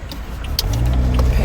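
A car interior on a day of errands, with a steady low engine and road rumble building as it drives, a few light clicks and rattles over the top.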